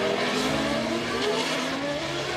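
AutoGP race cars with restricted steering lock at the Marrakech street circuit, their loud, sustained, close engine roar rising and falling in pitch as they pass, with faint tire noise.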